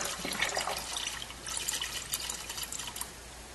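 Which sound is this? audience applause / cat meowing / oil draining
oil draining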